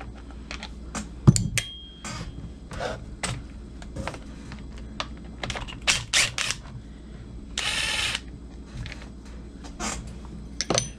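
A power gun zips screws out of the cover of a Husqvarna 235 chainsaw in a string of short, sharp bursts, close and fairly loud, with clicks and handling noises between them.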